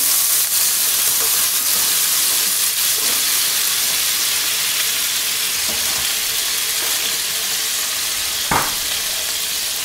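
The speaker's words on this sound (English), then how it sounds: "I'm going to make a little sauce right here in this frying pan" Steady frying sizzle of a lemon-juice sauce in a frying pan, with a constant hiss, a few faint clinks and one sharp tap near the end; no talking.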